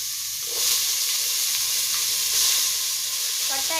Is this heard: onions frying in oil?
yes